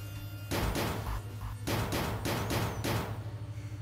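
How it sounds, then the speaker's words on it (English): Sliding doors in the video game 999 thud and rumble shut in several loud, heavy bursts over a low steady hum, each impact spreading into a brief noisy roar. "the 2 other doors slid shut as well."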